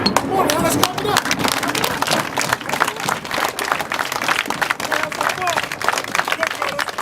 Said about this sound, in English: Come on now, let's clap it up.